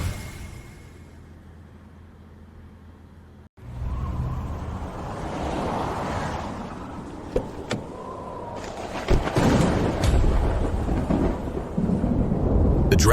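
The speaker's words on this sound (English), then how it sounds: "In the middle of this snowstorm, why is there thunder and lightning?" Thunder rolling during a snowstorm: a low rumble builds after a sudden break and grows louder, with sharper cracks and crashes layered over the sustained roar toward the end.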